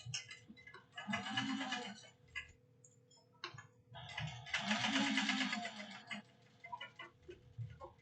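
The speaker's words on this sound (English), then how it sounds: "And I am going to top stitch this at 1/8 of an inch." Sewing machine top stitching a bag at an eighth of an inch, two bursts of fast, close mechanical rattling stitches separated by pauses, with quieter clicks between runs.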